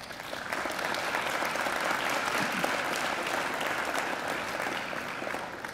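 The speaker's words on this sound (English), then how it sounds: "I'm sure you'd like to give them a great round of applause too." A graduation hall audience gives sustained, steady applause, a dense wash of many clapping hands that holds at an even level throughout without pause.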